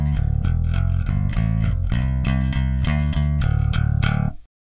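Clean bass guitar through an Alpha Omega pedal with its processing but no distortion, playing a steady line of plucked notes with a warm, processed tone, ending abruptly in silence.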